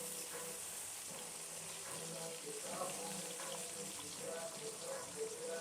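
Tomatoes hit a hot pan in a home kitchen, giving a steady, fairly faint sizzle and hiss that continues evenly without talk.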